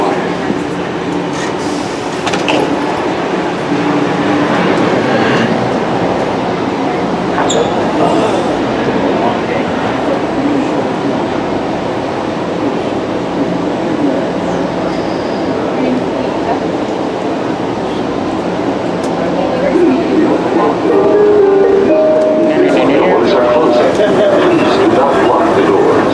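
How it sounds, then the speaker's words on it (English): An airport train departs, rumbling and clattering along the rails inside the car, its steady roar swelling toward the end, with announcements and voices over it. "Please hold on. This train is departing."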